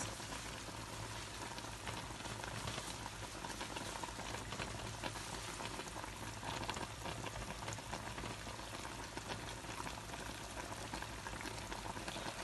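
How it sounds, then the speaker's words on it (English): Fresh fish boiling in a pot of water for Nigerian egusi soup, a faint, steady bubbling hiss that continues evenly throughout with no talking. "I will allow the fish to boil for some minutes before removing it and start other things to do."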